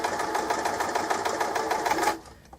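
A sewing machine stitches a hem on trousers with a fast, even, close whirring clatter that stops abruptly near the end, leaving quiet room tone.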